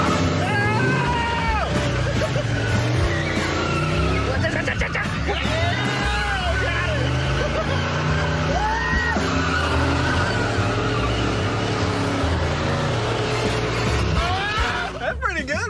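A 1968 Cadillac is driven on a road test, its engine droning steadily with tire noise and skidding swells. People talk over it the whole time.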